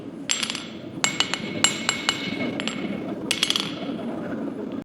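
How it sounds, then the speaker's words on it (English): A blacksmith strikes metal with a short-handled hammer, giving sharp ringing clinks in irregular clusters of blows over a steady background hum, close and fairly loud. "Now we need a special hammer with a real short handle."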